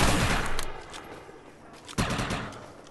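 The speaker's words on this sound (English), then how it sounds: "this is a, like very fast sniper rifle in terms of reloading speed" Weapon fire in the online shooter Defiance, from a fast-reloading sniper rifle, sits over a dense roar of game noise. One sharp, loud crack stands out near the end, close and alone, with no talk.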